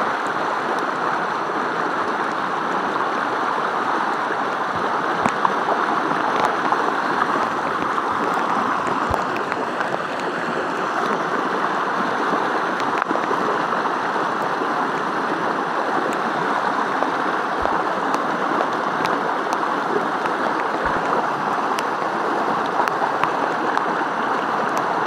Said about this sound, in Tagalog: Sobrang lakas ng agos mga ito.